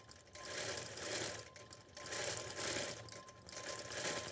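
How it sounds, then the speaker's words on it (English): Sewing machine stitching a quilting pattern guided by a laser light, a steady close mechanical whir with rhythmic needle clatter that swells and dips in a few even cycles, alone with no talking. "it's fun to see the machine stitch it without me having to worry about it"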